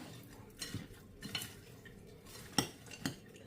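A spoon clinks and scrapes against a bowl while fruit salad with roasted nuts is tossed, with a few soft, scattered taps and one sharper knock, fairly quiet with no talking.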